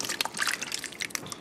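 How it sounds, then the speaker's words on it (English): Tomato sauce is poured over baked spinach and cheese manicotti noodles in a pan, making soft wet trickling and dripping splats that are close and fairly quiet. "I'm going to pour our sauce over our noodles"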